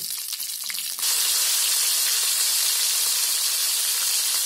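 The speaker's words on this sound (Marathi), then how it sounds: "ते अशी सर्व आहे ना फ्राय करून घ्यायची" Prawns sizzling hard in hot oil, a steady loud frying hiss that surges up after a brief quieter start and holds continuously to the end, with no voices over it.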